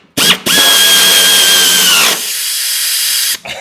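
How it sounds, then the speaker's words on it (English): A small impact wrench runs loud and close as it tightens a nut on a John Deere EZtrak Z225 mower deck, giving a steady whirring buzz for about two seconds, then a quieter whine before it cuts off. "get the sucker zipped on down with my little tiny itty bitty impact wrench"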